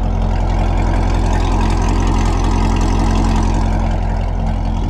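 A C7 Corvette with a Corsa Xtreme exhaust idles steadily, a deep continuous rumble heard close and loud with no other sounds.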